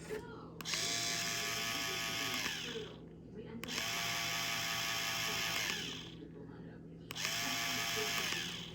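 A Kibiy electric bald head shaver motor whirs in three steady bursts of several seconds each, separated by brief pauses, close and buzzing with a high-pitched whine.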